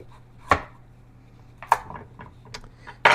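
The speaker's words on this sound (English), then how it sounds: "I'm just going to cut off the ends here and cut it in half" A knife chops through a Delicata squash on a cutting board, trimming the ends and halving it lengthwise, with a few sharp, separate thunks and quieter taps between them.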